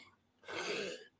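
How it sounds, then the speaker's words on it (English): A single short throat-clearing cough from a live broadcast host, brief and fairly soft, heard alone against near silence. "Oh, sorry, live coughing."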